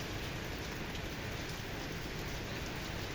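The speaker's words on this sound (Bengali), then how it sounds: "আজও কিন্তু গুড়ি গুড়ি বৃষ্টি হচ্ছে।" Light drizzle falls over an abandoned field in Satkhira near a bypass road, a soft, even, continuous hiss of fine drops with no voices, steady from start to finish.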